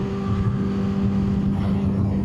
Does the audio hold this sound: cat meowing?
no